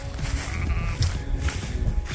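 An older ewe on a farm at lambing time bleats repeatedly in short, fairly close calls over a steady low rumble of the barnyard.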